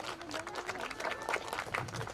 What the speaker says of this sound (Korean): 국민 여러분 뜨거운 박수로 우리 의장님과 의원님들을 보내드리겠습니다